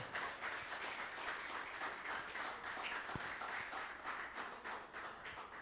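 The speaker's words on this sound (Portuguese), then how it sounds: "Quem está entendendo, aplaude." Faint, steady applause from a church congregation during a sermon, with many hands clapping in an even wash from start to finish.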